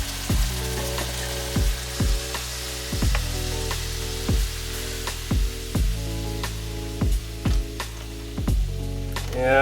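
Ground beef fries in a pan, a constant loud sizzle with a spatula scraping and stirring at regular intervals of about a second and a half, close up, with no talking.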